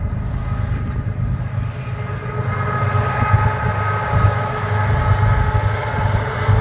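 A heavy Powder River Basin coal unit train rumbles past steadily in Wyoming, a deep continuous roar with rattling wagons and a faint high whine, loud and close throughout.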